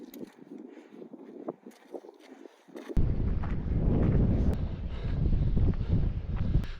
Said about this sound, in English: it is way windier than forecasted